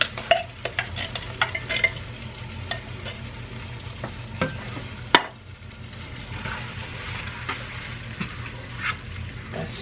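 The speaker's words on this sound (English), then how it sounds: "Let's stir it up." Chili with drained kidney beans is stirred in a pot, giving a run of close spoon scrapes and clinks against metal over a low simmering sizzle, with one sharp knock midway.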